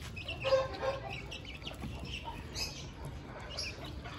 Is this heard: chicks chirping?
yes